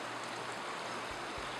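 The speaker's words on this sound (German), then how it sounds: "Dieser Fluss begegnet einem ein paar Mal auf dem Golfplatz" A river flows past the Kaiserwinkl golf course in Kössen, Tyrol, as a steady, close broadband rush of moving water with no voices.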